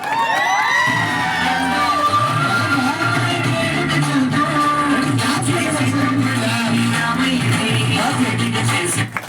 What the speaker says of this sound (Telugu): ఒక్కసారి గట్టిగా క్లాప్స్ కొట్టాను అందరూ కూడా.